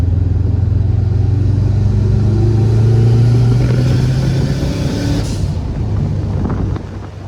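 A tuned Subaru WRX bugeye engine idles with a loud, steady low rumble that rises into a rev partway through, then settles back toward idle with a brief whoosh near the end.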